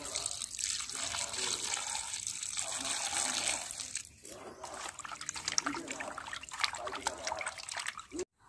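Tap water runs and trickles into a sink while Shilong fish is washed for a curry, a steady close splashing that changes as hands move through the stream.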